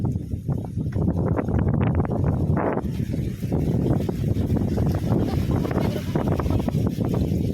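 Strong wind buffets the microphone in a steady roar, with people talking over it throughout.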